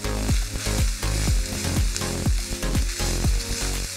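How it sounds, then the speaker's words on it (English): Beef tossed in a single pan for beef and broccoli, sizzling steadily close up with a run of sharp scraping strokes and clatters from the tossing. "Let me just toss this a little bit."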